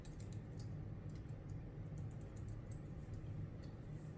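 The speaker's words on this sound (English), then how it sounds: "and I'm just going to type one in." Computer keyboard tapped in a quick run of light key clicks while an answer is typed, faint and close over a low steady hum, with no talk.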